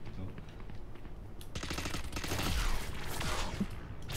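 Automatic rifle fire in the Valorant video game, held down to empty the magazine. A dense, continuous burst of shots starts partway through and grows louder toward the end.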